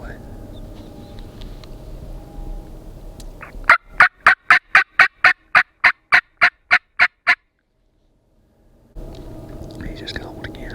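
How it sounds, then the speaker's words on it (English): A Merriam's wild turkey gobbles in Idaho mountain country during a spring hunt, a clear rapid run of about a dozen sharp gobble pulses, fairly loud, between quiet outdoor ambience with faint whispering. "He just gobbled again."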